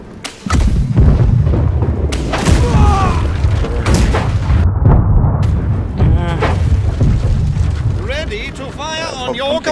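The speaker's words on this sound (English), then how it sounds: "Back cannons." Heavy ship cannons boom repeatedly during a naval battle in the pirate game Blackwake, loud and close, with players talking over the blasts and rumbling gunfire.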